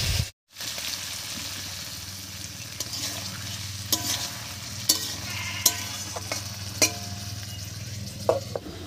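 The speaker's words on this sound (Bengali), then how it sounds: "এবারে মশলা বাটা জল দিয়ে একটু ঢাকা দিয়ে ভালো করে কষিয়ে" Paneer masala with peas and potato cooks in a pan under a low, steady sizzle, while a spoon scrapes and taps against the pan in scattered strokes.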